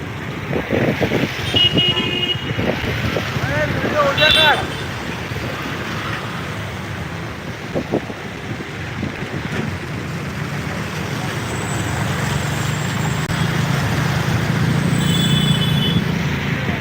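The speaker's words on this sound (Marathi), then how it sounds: "पाणी इकडे आहे पण वाहतूक सुरू आहे" Traffic rolls along a waterlogged road in Virar West: vehicles pass close by in a steady rumble, with a few short horn toots scattered through and a person talking at the start.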